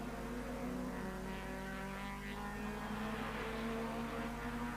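Mid-1990s Super Touring race cars at Kyalami, with a loud, sustained engine roar of several cars racing closely together at high revs, steady and dense, and no talk over it.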